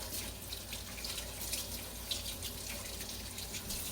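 A kitchen tap runs in a steady, even stream as hands are rinsed off between kneading sticky pizza dough, close and continuous with no talking.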